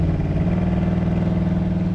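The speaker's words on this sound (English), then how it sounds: "Car has good acceleration." A 1940 Ford Coupe engine pulls steadily under acceleration, a loud close droning hum with a strong low harmonic tone holding throughout, no talk.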